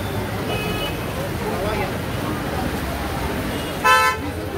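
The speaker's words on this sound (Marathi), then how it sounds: "किती नुसता आवाज गाड्यांचा नुसता चाललेला होता" Busy market street traffic in the rain, a constant roadway rumble and crowd murmur with a few short car horn toots, one louder blast near the end.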